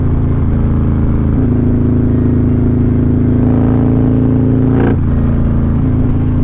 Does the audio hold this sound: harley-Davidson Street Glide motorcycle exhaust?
yes